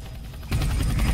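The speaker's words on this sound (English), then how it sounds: "We're in the heli chopper now." Helicopter in the Roblox game lifting off, a steady broadband rotor and engine roar that jumps louder halfway through and holds, with no talk.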